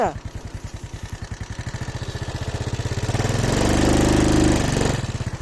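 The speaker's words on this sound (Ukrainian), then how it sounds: "А ну бурнаут зараз зробимо" Vehicle engine revved hard for a burnout attempt, a steady low chugging drone that climbs louder and rougher toward the end before easing off, close and continuous with no talk over it.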